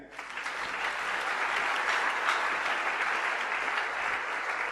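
Church congregation breaking into applause, a dense, even clapping that swells in quickly and carries on steadily, moderately distant and without talk.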